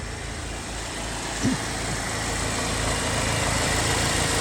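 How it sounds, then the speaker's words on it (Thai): A 2002 Toyota Altis 1.6 automatic's engine idles steadily up close, a constant low mechanical hum with one brief small knock near the start. "เครื่องนิ่ง ๆ นะครับ น้ำไม่ดันนะครับ"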